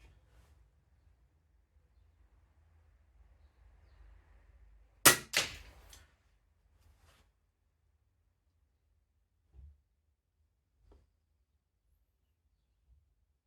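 A Diana SP50 air pistol firing old round-nose Webley pellets gives one sharp, loud crack and a quick second impact right after, then near-silence with a few faint distant knocks.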